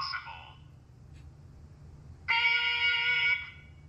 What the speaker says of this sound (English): leave a message at the beep